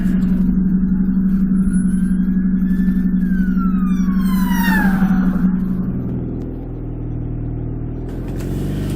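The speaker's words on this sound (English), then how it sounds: "Followed by police car 2." A second police car passing on a motorway with its siren sweeping up and down, growing louder as it nears, then dropping in pitch and fading as it moves away, over a steady engine hum.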